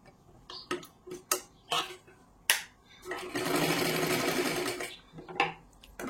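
A sewing machine stitches a four-tuck blouse, a few short clicks and taps followed by one steady close run of stitching lasting about two seconds, then more clicks.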